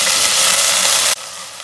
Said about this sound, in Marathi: त्याच्यानंतर घालायचं आहे हिंग आणि त्याच्यावर मी मटारचे दाणे घालणार आहे